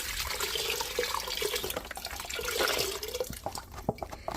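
Vegetable broth pours steadily from a container into a soup pot, a close, continuous liquid gush that breaks into gurgles and splashes as the flow tapers near the end, with no talking.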